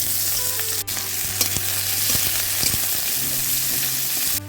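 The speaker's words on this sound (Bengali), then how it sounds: "একটা শুকনো লঙ্কা দিয়ে দিচ্ছি ফোড়নে, আর দিয়ে দিচ্ছি কুচিয়ে রাখা পেঁয়াজ।" Chopped onion and a dry red chilli hitting hot oil in a kadai, a loud, close, continuous sizzle with occasional scrape of a spatula and a steady low hum.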